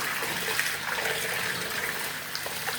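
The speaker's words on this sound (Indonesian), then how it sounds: "kita bersihkan lagi dengan menggunakan air mengalir ya" Soybeans being rinsed under running water from a tap, a steady close wash of splashing and trickling liquid that continues without pause and with no talking.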